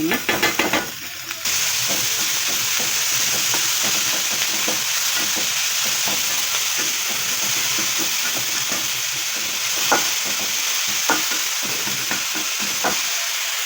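Ivy gourd stir-frying in a pan at home, a loud continuous sizzle with scraping stirs and occasional clatters of the spatula, close up with no talk.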